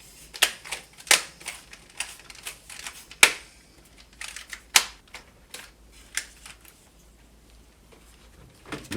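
Irregular clacking keystrokes on a repaired Amstrad computer keyboard, each sharp click distinct and close, spaced unevenly in bursts with short pauses, no voices.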